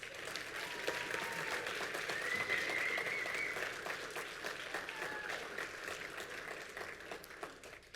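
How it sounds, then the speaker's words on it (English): Audience at a Blue Jay athletics alumni reunion applauds hall of fame inductees with steady, moderately distant clapping and a few faint whistles throughout. "Ladies and gentlemen, one more round of applause for this year's inductees."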